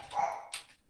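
A pet dog named Luke at home gives a single short, fairly loud bark or yip, followed by a brief higher yelp, with no talking.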